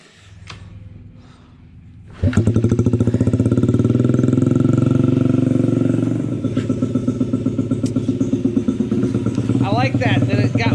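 A motorcycle engine with the choke on, heard close and loud. A quieter rumble comes first, then the engine bursts into a fast, rapid-firing idle that runs roughly and unevenly. Voices may sound faintly underneath.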